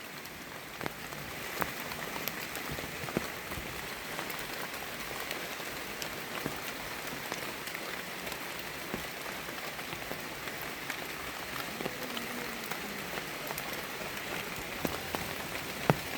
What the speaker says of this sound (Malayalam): നിലവിൽ നല്ല രീതിക്ക് മഴ പെയ്യുന്നുണ്ട് കേട്ടോ